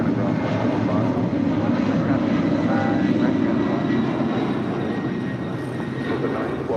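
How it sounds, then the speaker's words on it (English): United Airlines Boeing 767-300ER jet departing Los Angeles International for Newark, a steady broadband engine roar holding loud and constant throughout, without clear rise or fade. "it's not often we see a United 767-300ER here at LAX, now departing to Newark"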